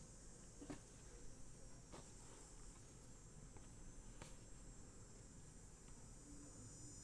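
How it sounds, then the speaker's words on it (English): Cicadas buzz steadily outdoors on a hot day of around 30 degrees, a continuous high, hissing drone that runs throughout with little change, faint and distant, with occasional soft clicks and rustles close by. "there's a lot of cicadas right now"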